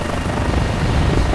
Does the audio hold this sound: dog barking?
no